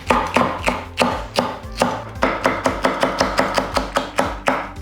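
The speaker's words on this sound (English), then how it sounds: "we're going to chop some stuff up. So we'll come out with an onion" A knife chops an onion into small slices on a board, with quick, crisp, evenly spaced cuts in a steady rhythm and short pauses between runs, close up and without voices.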